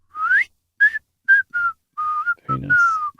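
A person whistles a melody alone and up close, in short clear phrases with gliding pitches and brief pauses.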